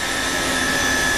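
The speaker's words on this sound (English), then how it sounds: "3 vacuum cleaners," A cordless Dyson vacuum cleaner runs steadily, with a loud, even whine and rushing airflow close by, alone and without interruption.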